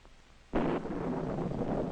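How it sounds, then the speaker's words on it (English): Sudden loud rumble of thunder bursting in after a quiet moment, then rolling on steadily, close and heavy, in a nighttime bedroom setting. "Thunder."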